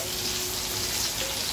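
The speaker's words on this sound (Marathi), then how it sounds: "खोबरं चांगलं भाजलं पाहिजे" Grated coconut dry-roasting in a pan for a chicken dish, giving a soft, steady sizzle and light crackle that holds evenly throughout with no voices.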